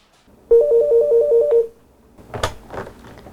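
Telephone ringing at a mental health crisis hotline counselling centre, a single electronic ringtone of about nine rapid trilled pulses lasting a second, then clicks and handling as it is answered.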